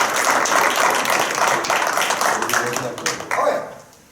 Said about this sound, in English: Everyone clap now, come on.